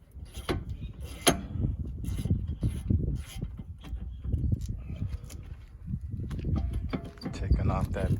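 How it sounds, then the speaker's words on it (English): Brake caliper being removed from a 2006 Dodge Charger, with steady mechanical clanks, ratcheting and metallic clicks running close and continuous under background talk. "Taking off that brake caliper right now"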